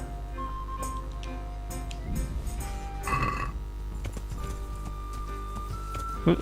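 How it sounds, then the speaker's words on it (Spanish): Horse hooves clip-clopping at a riding pace in the video game Kingdom Come: Deliverance, a regular rhythmic clatter under a faint background mix, with a louder thump near the end. "Voy encima del caballo"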